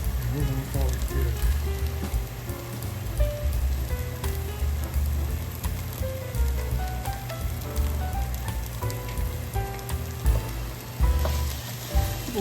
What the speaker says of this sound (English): let that kind of cook in, let that flour kind of brown in a little bit